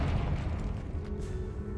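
A Confringo spell explosion in the Hogwarts Legacy video game lands as a deep, rumbling boom that rolls on briefly with a low, sustained tail.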